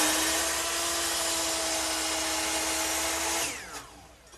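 A power saw cuts a piece of molding in a miter box with a loud, steady whine for about three and a half seconds, then spins down and stops.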